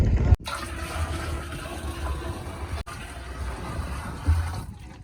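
Two buckets of water are poured out, a gushing, splashing rush that is loud and close, with a brief cut-off early on and another surge of water near the end.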